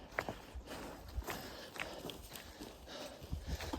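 A horse walking along the Pacific Crest Trail, its hooves giving irregular soft clip-clop steps close by over steady outdoor background noise.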